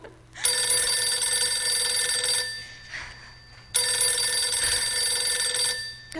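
A telephone bell rings in a radio drama with two long, loud metallic trills separated by a short pause, close and insistent over a low steady hum.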